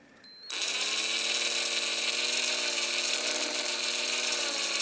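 Power drill driving a screw into a plastic wheel rim during a wheel swap on a 1995 Mazda RX-7 with T5 spoke rims: a sharp motor start settling into a steady, loud high-pitched whine that runs without a break.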